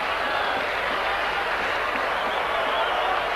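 A steady, dense roar of a rugby league crowd at a 1987 Warrington versus Hull KR match rises after a try, a continuous wash of cheering and applause heard from a distance.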